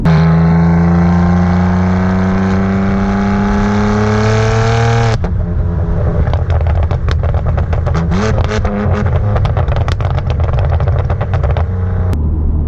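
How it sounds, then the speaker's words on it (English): A BMW M3 engine pulls hard with a rising, loud howl, then cuts sharply on an upshift, leaving a rougher, lower engine note with crackling pops that runs on alone. "This upshift is brutal."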